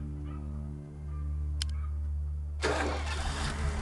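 A generator engine in the game Atom RPG, heard after a low steady hum as the engine cranks and fires, bursting into a loud, rough, broadband roar that keeps running.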